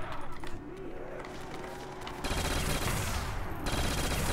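Automatic gunfire in a Call of Duty custom zombies match on a beach town map, with rapid bursts of shots running continuously and growing louder and denser partway through, close and dominant.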